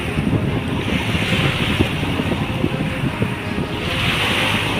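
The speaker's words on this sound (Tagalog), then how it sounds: "Lakas ng hangin guys." Strong wind by Manila Bay buffets the microphone in a steady roar, with surf washing continuously underneath and no voices.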